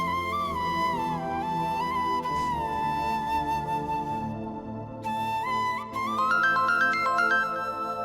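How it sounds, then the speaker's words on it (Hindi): A phone ringtone plays a steady electronic melody for several seconds, loud and close, with a brief dip before the tune resumes brighter. "देखो कहीं ताबीर का फोन ना हो।"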